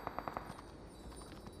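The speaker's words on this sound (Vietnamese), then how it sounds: "Bên kia ông đang có tiếng súng bắn nhau nữa kìa." Gunfire from a firefight in the PUBG Mobile battle royale game, a quick burst of about four sharp shots in the first half second, then fainter scattered reports amid background game noise.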